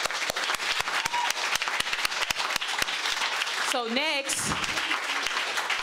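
Applause for a panel at a party congress, with sharp close claps standing out from a busy crowd patter for several seconds, before a voice briefly speaks over it as the clapping thins.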